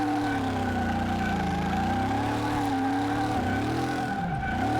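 Car skidding and understeering in Car Mechanic Simulator 2018, a steady engine drone with a sustained tonal tire squeal that bends in pitch toward the end, loud and continuous with no talking.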